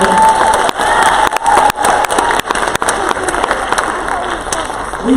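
An audience at a poetry slam breaks into loud, sustained applause mixed with cheering and shouts, a dense crowd clatter that carries through the whole stretch.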